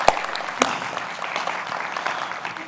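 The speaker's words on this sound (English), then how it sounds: "So let's give our sponsors another round of applause." A conference audience applauds the sponsors at a software development talk, producing a short burst of moderate clapping with a few sharper claps near the start.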